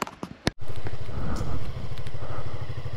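A Yamaha XMax 250 scooter engine starts with a few sharp clicks, then revs up close and loud, its pulsing exhaust note rising and holding with a rhythmic throb.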